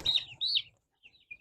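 Baby chickens newly bought for a farm peep in high, thin chirps, two clear calls close together followed by a few fainter ones, close by with no talking.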